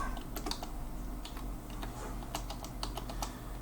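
Rapid keystrokes on a computer keyboard as a server address, username and password are entered into a file-transfer program's login fields, steady irregular clicking throughout with a low background hum and no talking.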